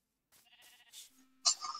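A Minecraft sheep bleats in short, wavering calls, close and fairly faint, followed by a sharper burst of game noise at the end.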